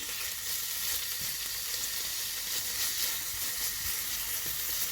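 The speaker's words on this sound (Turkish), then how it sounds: "Black Angus kuşbaşılarımızda Hemen ilave ediyoruz vakit kaybetmeden." Cubes of Black Angus beef sizzle steadily in hot olive oil with a few light stirring clinks, a continuous close frying hiss with no talking.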